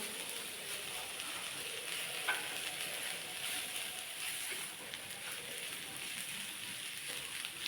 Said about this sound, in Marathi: दोन तीन मिनिट परतून घेऊया फिरवून घेऊया मस्त अशी भाजी आपली छान तेलात मिक्स करून घेऊया